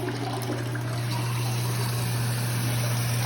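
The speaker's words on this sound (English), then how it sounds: "so now we flush" A toilet flushes after a new flapper is fitted, a steady rush of running water with a low constant hum underneath, close and continuous for a few seconds.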